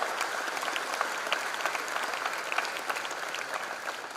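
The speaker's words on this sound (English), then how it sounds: "I think we owe a round of applause here" An auditorium audience at a freshers' induction programme applauds steadily, a broad even wash of many hands clapping that holds at a moderate level throughout without any voices.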